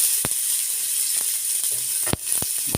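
Garlic sizzles in a hot pan while being sautéed before the onions go in, a steady hissing fry broken by a few sharp clicks and clatters of a utensil.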